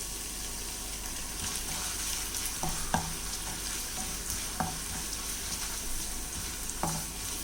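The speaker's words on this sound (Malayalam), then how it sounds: "അപ്പോൾ ആദ്യം നമുക്ക് ഈ ചങ്ങലം പരണ്ട എണ്ണയിലിട്ടിട്ട് വഴറ്റിയെടുക്കാം." Changalam paranda (veldt grape stems) frying in hot oil in a pan, a continuous loud sizzle with occasional stirring scrapes and clicks, no voices.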